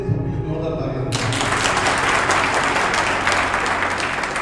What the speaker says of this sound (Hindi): सबकी जोरदार तालियां